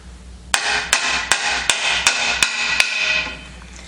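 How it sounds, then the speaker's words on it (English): Seven sharp metallic hammer strikes in an even rhythm, close and loud, driving a seal into a steering gearbox housing of a 1953-1962 Corvette, each ringing briefly before the next, then fading out. "Now I'm going to use my hammer and drive this seal into the housing here"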